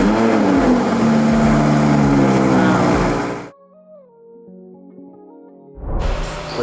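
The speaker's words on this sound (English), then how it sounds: "let's go ahead and hear one last cold startup with the stock exhaust" Audi R8 cold start on its stock exhaust: a loud, dense roar holds for about three seconds, then drops to a quieter, steadier idle, and a second sharp burst of revving comes in near the end.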